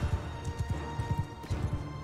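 Horse hooves pound in a Mount and Blade Bannerlord field battle against a large band of horse archers, a loud, rhythmic clatter of galloping with no voices.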